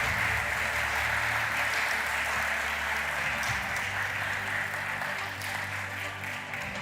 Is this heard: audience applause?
yes